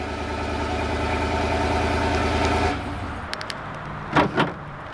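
A 5.3 liter Chevy 1500 pickup truck engine idles after remote start with a deep, steady rumble that cuts off partway through, followed by a few clicks and two short thuds.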